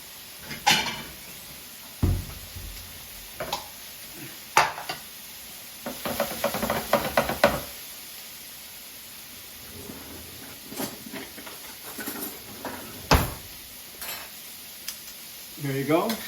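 Green beans in butter tossed with tongs in a frying pan, giving soft scattered stirs and clinks over a faint sizzle, with quiet pauses between the tosses.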